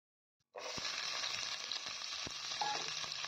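Chopped onion and garlic hit hot oil with cumin and burst into a loud, steady sizzle that starts abruptly after a brief silence, with faint utensil taps and stirring underneath.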